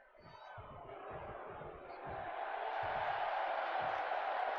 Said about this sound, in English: Crowd seems to be firmly behind the Celtic Warrior in this match.